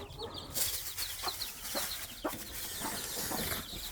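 Several chickens cluck softly while pecking at fruit peels and banana, with repeated short calls and faint scratching against a steady outdoor background.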